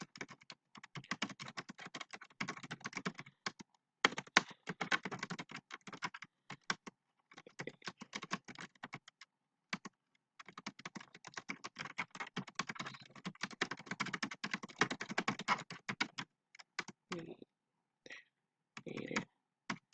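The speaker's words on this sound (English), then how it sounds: "So you actually get to see me type this out." Computer keyboard typing in close, quick bursts of clicking keystrokes with brief pauses between runs, fairly quiet and alone.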